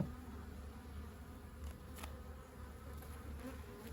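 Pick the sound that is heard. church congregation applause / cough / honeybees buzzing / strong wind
honeybees buzzing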